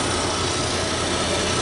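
A Chevrolet 3.6-liter V6 VVT engine in a front-wheel-drive car runs at a steady idle, a continuous even hum heard up close with no talk.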